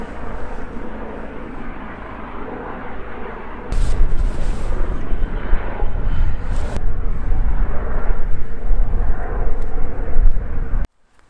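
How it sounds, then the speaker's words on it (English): Helicopters flying overhead outdoors, a steady low rotor and engine rumble that swells louder midway and holds as a continuous drone before cutting off abruptly. "Just wait for those helicopters to clear off."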